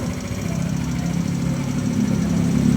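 A Kawasaki Z125 motorcycle engine idles close by with a steady low, slightly uneven rumble that gradually grows a little louder.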